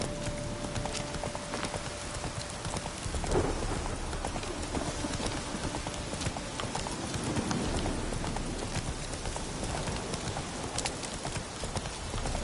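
Horse hooves from The Witcher 3 clip-clop steadily at a gallop, close and continuous, over a soft rain-and-thunder ambience.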